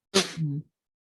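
A single sharp human sneeze close to the microphone, a quick burst followed by a short voiced tail, then silence.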